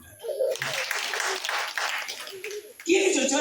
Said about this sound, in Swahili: Mpigie makofi matatu.